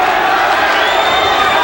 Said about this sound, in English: The crowd chanting for McGirt.